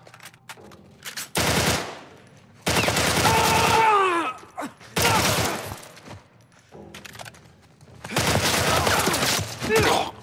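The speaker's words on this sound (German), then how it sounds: "Wo kommen die Schüsse her?" Loud bursts of rapid automatic gunfire in the video game The Last of Us come in several long volleys separated by short pauses, with some voices in between.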